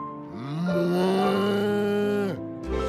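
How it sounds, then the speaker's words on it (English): A cartoon cow lets out one long, loud, close moo lasting a couple of seconds, swelling and then falling away in a low drawn-out groan, with no talk over it. "Or a cow."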